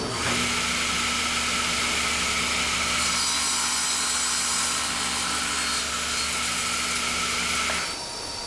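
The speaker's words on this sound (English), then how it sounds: "This edge line allows me to line up the cut to the edge of the saw blade." A hand or power saw cuts a small wooden pad to a square shape for a toggle clamp jig extension, making a steady, loud rasping drone that runs for about eight seconds and then stops abruptly.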